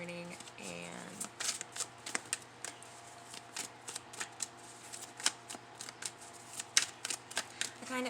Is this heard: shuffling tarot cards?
yes